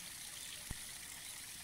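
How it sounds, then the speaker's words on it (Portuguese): A mountain waterfall in the Swiss Alps cascades down from above, heard as a constant soft broadband rush of flowing water with a brief low thump partway through and no talking. "Aqui de frente tem uma cascata de água que vem lá de cima."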